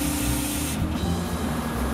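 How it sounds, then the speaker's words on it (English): Inert ceramic slurry sprayed into the internal passageways of a hardened resin-sand casting mold for valves, a steady close hiss running without pause, with a brief dip partway through. "The internal passageways of the mold are carefully sprayed with an inert ceramic slurry"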